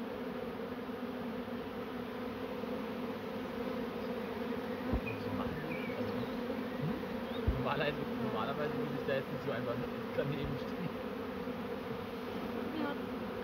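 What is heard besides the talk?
swarming honeybees buzzing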